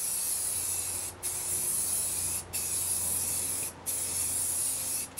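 Spray paint hisses in long, steady bursts while a lawnmower dump trailer is painted, each stroke broken by four short pauses, close and loud with no talk.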